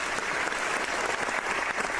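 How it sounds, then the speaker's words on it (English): A crowd applauds steadily, a dense, continuous wash of many clapping hands with no pauses or talk. "let me give a big ol' round of applause"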